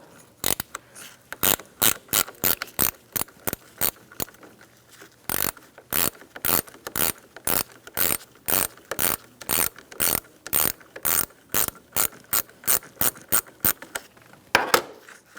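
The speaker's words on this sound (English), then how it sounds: "use an 8mm as well to remove this terminal" Ratchet fitted with an 8mm socket loosening the battery terminal on a 2007-2017 Ford Expedition 5.4L, giving a long steady series of sharp, close clicking bursts with a brief pause near the middle, no talking.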